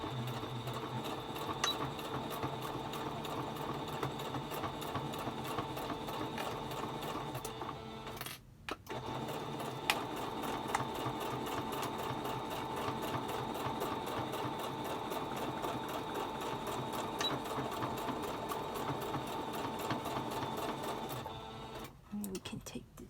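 A sewing machine stitches pleated mask fabric layers together, running steadily for a long stretch with a steady mechanical hum and rattle and two short stops, heard close at a moderate level.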